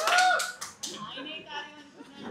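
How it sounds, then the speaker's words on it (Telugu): A few sharp, close hand claps from a single audience member at a Telugu stand-up comedy show ring out early, then fade under a voice speaking. "ఆయన ఎటో చప్పట్లు కొడుతున్నావు బాబు"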